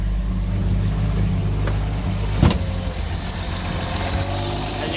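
A car engine idles steadily with a low, even rumble close by, broken by a single brief knock midway, with no talking.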